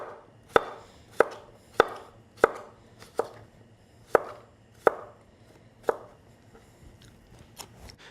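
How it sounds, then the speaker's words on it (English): A knife chops cucumbers steadily on a cutting board, about nine crisp, sharp strikes at an even, brisk rhythm, close up with a quiet background. "Cucumbers are a really fun ingredient to practice your chopping skills because they're super soft."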